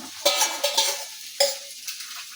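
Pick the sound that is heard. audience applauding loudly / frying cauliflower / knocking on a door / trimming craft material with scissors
frying cauliflower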